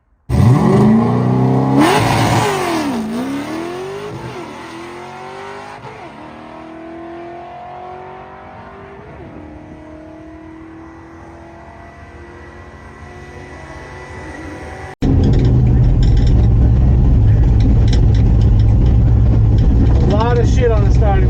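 A 1968 Torino GT with a 302 small-block and T5 gearbox launching at a drag strip: a loud engine revs hard, then pulls through rising gear sweeps that fade with distance, and a second loud, rough engine roar cuts in abruptly near the end.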